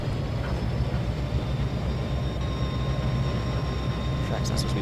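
A train in a railroad-building video game runs over rough, wonky track, giving a continuous heavy rumble with faint squeals and clatter throughout, loud and steady with no pauses.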